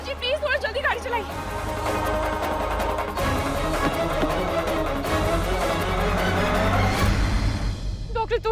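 A car races along at speed with tires screeching as it takes a bend, the engine loud and close beneath a steady dramatic music score.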